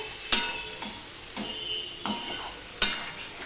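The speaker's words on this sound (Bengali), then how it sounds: "ভাজা ভেন্ডিগুলো দিয়েও সম্পূর্ণটা ভালো করে আমি মিশিয়ে নেব" A spoon scrapes through fried okra in a pan over low-to-medium heat, giving about five distinct stirring strokes over a soft, continuous sizzle.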